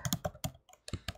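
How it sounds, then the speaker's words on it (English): Username typed on a computer keyboard at a login page: a short burst of about six crisp, close key clicks in an uneven rhythm, with a brief pause midway, no voices. "you type your username"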